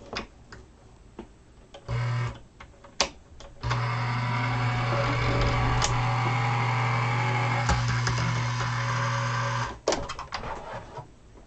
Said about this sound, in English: let's run it through our machine and see what we came up with